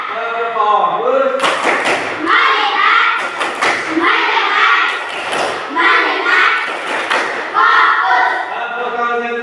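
An elementary school class claps in a quick rhythmic pattern, sharp broadband bursts in short groups, mixed with children's voices and a teacher speaking throughout.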